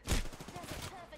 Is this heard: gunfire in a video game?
yes